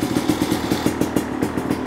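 A 2024 Beta 300RR Race Edition dirt bike engine runs close by with a rapid, evenly pulsing chatter, like a fast steady idle with a slightly rattly edge.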